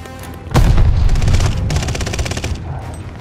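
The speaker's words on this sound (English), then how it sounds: "Allies calling a mortar barrage!" A mortar barrage in the Call of Duty Vanguard video game erupts with a heavy, booming blast, then a dense roll of rapid detonations and crackling gunfire-like bursts that fade toward the end.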